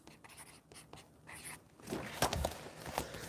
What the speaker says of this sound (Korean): 여기 제목을 써볼게요